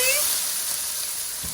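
Broccoli with onion dropped into hot oil for a chicken and broccoli stir-fry gives a brief, loud, steady sizzle and hiss close up, with no talk.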